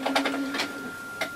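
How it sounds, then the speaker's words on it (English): A printer runs in the background churning out a large service manual for a Yaesu FRG-7700 HF receiver, giving a few quick mechanical bursts with a steady whine between them, and no voices over it. "I'm just printing off the massive service manual for this."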